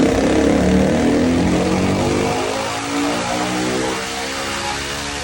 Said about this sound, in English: But it still has a great exhaust note to it